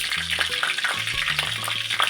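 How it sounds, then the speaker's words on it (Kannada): Four spoons of oil heat in a pan on a lit stove, giving a loud, steady sizzling crackle with a few low tonal hums threaded through it. "ಸ್ಟವ್ ಹಚ್ಚಿ ಪಾತ್ರೆ ಇಟ್ಟಿದ್ದೀನಿ. ಎಣ್ಣೆ ಹಾಕಿದ್ದೀನಿ, 4 ಸ್ಪೂನ್ ಎಣ್ಣೆ ಹಾಕಿದ್ದೀನಿ."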